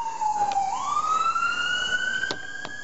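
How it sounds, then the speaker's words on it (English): An ambulance siren passes near an outdoor 2007 Lennox 2.5-ton air conditioner with a Copeland Scroll compressor, its wailing tone sweeping and rising steadily, loud and continuous over a steady hum. "Ambulance."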